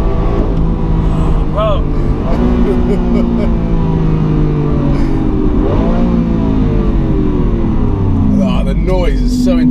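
A Lamborghini Aventador SV V12 engine revving hard, loud and close, with rising and falling pitch sweeps as it accelerates, while people talk over it.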